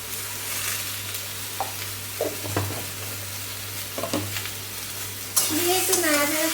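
Vegetables frying in a pan with salt and turmeric for a vegetarian curry, stirred in a few brief scraping bursts over a steady low sizzle, closing with a louder stretch of movement.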